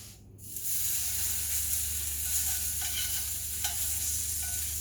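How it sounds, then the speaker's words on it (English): A5 wagyu strips fry in a pan in their own rendered fat, giving a steady close sizzle throughout with a few faint clicks and scrapes. "there's so much fat here that we can just kind of fry them. They'll render super fast."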